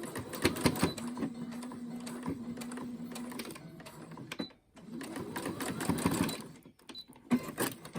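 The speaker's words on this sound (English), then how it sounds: "we're going to sew this side like we did the last one" A sewing machine runs in bursts, stitching the seam of a fabric button headband, with a short pause in the middle before it starts up again. The motor hums steadily and the needle clatters rapidly, loud and close.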